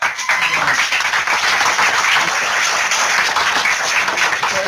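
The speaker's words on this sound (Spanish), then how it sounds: "Un fuerte aplauso." Loud, dense applause from a conference audience after a talk on the health impacts of climate change, a continuous wash of clapping that holds steady for several seconds.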